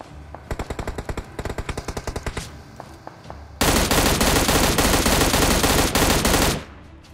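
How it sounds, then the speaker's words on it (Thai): Rapid automatic gunfire in the mobile battle royale game PUBG Mobile, a loud stuttering burst of shots followed by a long, dense sustained volley, close and dominant with no talk over it. "พี่โดนยิง"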